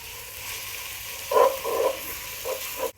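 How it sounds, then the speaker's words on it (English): A chopped onion fries in plenty of olive oil with a close crackling sizzle that swells in bursts as it is stirred, then drops away at the end. "We're going to fry this onion in plenty of olive oil for about 5 minutes."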